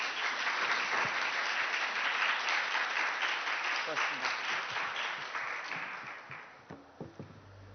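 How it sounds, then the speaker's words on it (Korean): Audience applause in a conference hall at a startup conference, a dense round of many hands clapping for panel speakers that gradually fades, then trails into a few scattered claps and a voice. "오늘 참가해주신 두 분 대표님께 큰 박수 부탁드리겠습니다."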